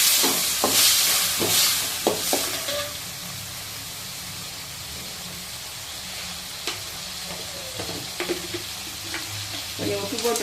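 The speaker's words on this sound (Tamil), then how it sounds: "தக்காளி வணக்கலாம். தக்காளி கொஞ்சம் எண்ணெய் ஊற்றணும்." Tomatoes sauté in hot oil in a pan while pirandai chutney is being made, giving a steady close sizzle with a few scraping stirs early on that then settles into softer frying.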